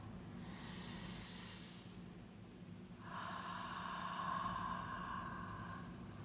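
One person draws a deep inhale through the nose, pauses, then releases a longer, louder exhale through the mouth, both close and breathy with no talk.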